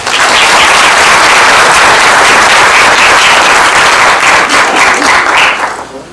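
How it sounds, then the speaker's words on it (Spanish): A lecture audience bursts into loud, dense applause to welcome the speaker before a Turing talk on non-classical logic, sustained at full strength for several seconds before tapering off at the end. "recibámoslo con un gran aplauso"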